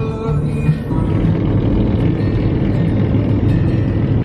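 Steady low road rumble from a Honda CR-V driving on a mountain road near Flagstaff, Arizona, a continuous engine and tire drone heard from inside the cabin with no talking.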